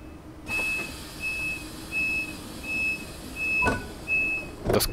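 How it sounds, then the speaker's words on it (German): In the game Train Sim World 3, an ICE 1 (BR 401) train's door-closing warning beep pulses at a steady rhythm, followed by a couple of sharp mechanical thuds near the end. "Hören uns mal an, wie sich der Türschließsound anhört."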